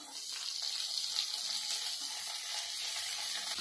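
Onions dropped into hot oil with crushed ginger and garlic give a steady, close, bright sizzle that holds evenly throughout with no voices.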